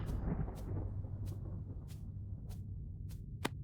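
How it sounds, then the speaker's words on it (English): Thunder rolls in a horror video game, a long low rumble with rain hiss beneath it. Several sharp, faint crackles punctuate it as it fades. "And thunder."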